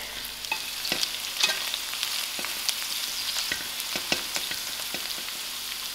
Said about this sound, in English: 15 minutes has passed us and my pawpaw is fried out.